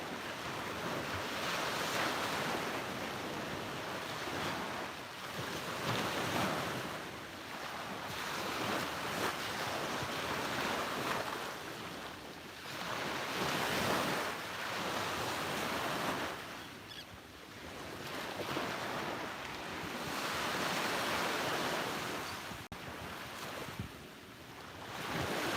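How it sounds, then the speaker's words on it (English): Ocean surf rolling onto a beach at sunrise, with steady wash and repeated swelling breakers every few seconds, loud and close, mixed with wind buffeting the microphone. "Listen to the waves for one more minute"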